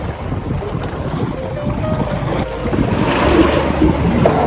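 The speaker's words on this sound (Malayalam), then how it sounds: "വള്ളത്തിലൂടെയുള്ള യാത്ര ഇനി ഇവിടെ അവസാനിക്കുകയാണ്." A country boat glides along the backwaters of Munroe Island in Kerala. Water washes and laps around the hull under gusty wind buffeting the microphone, growing louder toward the end.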